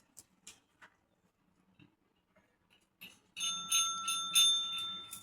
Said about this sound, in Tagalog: Cherry, ring the bell.